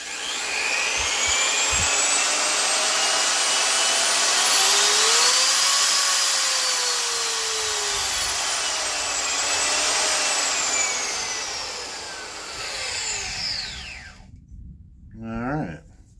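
An ETOOLAB 1200W variable speed polisher runs steadily at its lowest setting, a loud continuous whirring motor hum with a slowly shifting pitch, then winds down and stops near the end.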